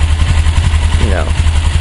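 A 1995 Suzuki GS500E motorcycle idles steadily on its stock exhaust, a close, even low-pitched engine throb with a brief faint chirp partway through.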